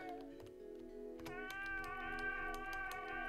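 A cat in the video game Blades of Heaven gives a drawn-out, wavering meow, with sharp clicking taps scattered throughout.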